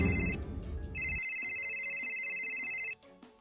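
A mobile phone ringtone plays in a comedic POV skit: a bright, steady electronic tone that rings continuously for about two seconds, then stops abruptly, with a low rumble fading out early on.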